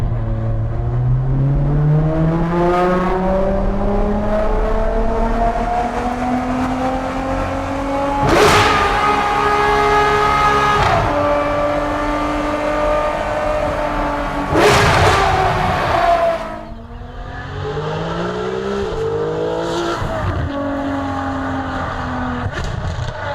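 Ferrari 599 GTO V12 engine at launch, a loud close roar with rising revs through gear after gear, each climb ending in a sharp shift before a final upshift and throttle lift as speed settles.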